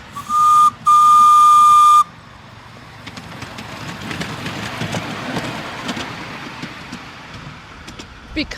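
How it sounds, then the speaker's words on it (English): A miniature coal-fired steam train engine at a town mall gives a loud whistle in two bursts, then chuffs along with a soft rhythmic rumble and hiss. "the engines are literally miniature steam engines, they are built exactly the same but to a smaller scale"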